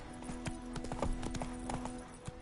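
Hooves of a horse drum in quick rhythmic clip-clops in The Witcher 3 video game, close and clear against a low humming game score, continuing evenly for a couple of seconds.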